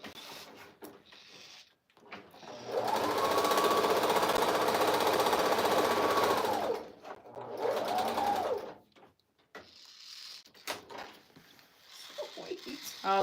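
A sewing machine runs in one long steady burst of stitching, then a shorter second run, fairly close and loud, with quieter handling noises and faint voices between.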